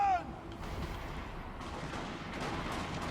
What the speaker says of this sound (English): while also just kind of weathering these cannon shots